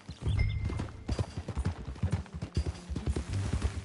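Horse hooves clip-clop at a steady walking pace on a dirt trail in Red Dead Redemption 2, the close, rhythmic thuds of two or more horses overlapping, with a brief whinny early on.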